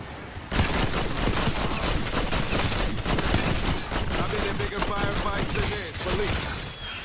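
Dense, loud bursts of gunfire while shooting a boss in Black Ops 6 zombies, rapid overlapping shots with game effects mixed in, briefly easing near the end before resuming.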